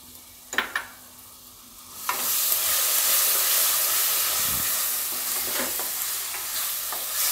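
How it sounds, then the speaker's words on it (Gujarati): Tomatoes tipped into a frying spice mixture for Rajwadi dhokli shaak: a few utensil knocks, then a loud, sustained hissing sizzle with occasional stirring scrapes, close and without talk. "આ રીતે મિક્સ કરીને આપણે તરત જ એમાં ટમેટાં નાખી દેવું."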